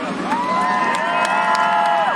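A speedway crowd at a sprint car race cheers and whoops for driver Roger Crockett on his home turf, a loud, continuous roar of many voices with high shouts rising above it, steady for about two seconds.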